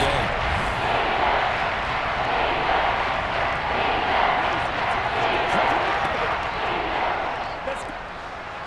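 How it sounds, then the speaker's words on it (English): A Madden 23 video game stadium crowd at a Raiders at Chiefs matchup roars in a dense, steady wash of noise, with game commentary talking over it throughout. "the crowd getting into it as we come up on a big third down."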